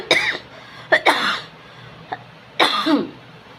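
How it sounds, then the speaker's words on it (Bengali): Three separate bursts of harsh coughing from a person who is unwell with a lingering cough, close and fairly loud, with short quiet gaps between the fits and a small throat sound in the middle. "এই কাশিটা কিছুতেই যাচ্ছে না"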